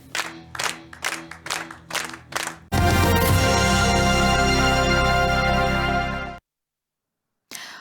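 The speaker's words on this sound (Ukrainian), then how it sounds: "Глядачі отримали насолоду від показаної вистави, про що свідчить подвійна овація" A theatre audience giving an ovation after a performance: a series of rhythmic clapping bursts builds into dense, loud, sustained applause, which then cuts off abruptly, followed by a short return of clapping.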